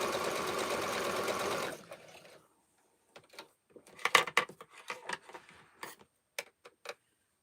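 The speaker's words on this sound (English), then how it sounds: "And I sew it a scant quarter." A sewing machine stitches a quarter-inch seam on a quilt block in a steady whirring run for about two seconds, then stops, followed by light clicks and fabric handling up close.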